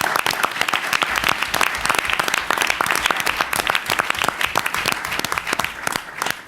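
An audience gives a loud round of applause, many people clapping in a dense, crackling burst with sharp individual claps standing out, continuing steadily throughout.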